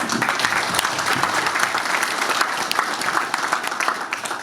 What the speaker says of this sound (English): So let's give everyone here a round of applause.